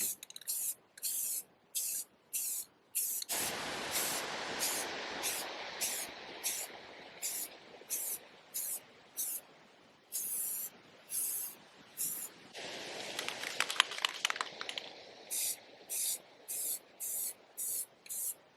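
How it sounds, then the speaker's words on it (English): Spray paint can coating a barrel, with repeated short hissing bursts and a couple of longer sustained sprays between them, close and fairly loud. "that barrel turned out pretty good for just spray painting it"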